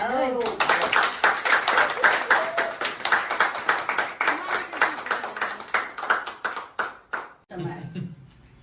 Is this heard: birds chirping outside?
no